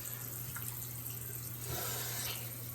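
Water running steadily from a tap into a sink, a soft continuous hiss and trickle with a low hum underneath, heard alone and fairly quiet.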